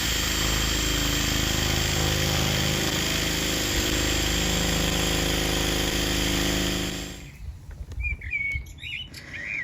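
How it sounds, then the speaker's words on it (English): A power drill drills out an old lock at a rural Irish property, loud, close and continuous for about seven seconds, then cuts off, leaving birds chirping outdoors. "is going to be to drill out this lock."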